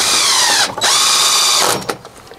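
Power drill driving 50 mm gold screws into a wooden garden gate, two loud sustained whirring bursts close by, the second cut off sharply with a brief tail of fading noise.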